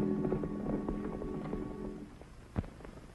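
Horse hooves clip-clopping on a western trail, a steady rhythmic patter of hoofbeats with one sharper knock near the end, moderately close and unaccompanied by talk.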